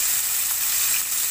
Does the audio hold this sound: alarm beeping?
no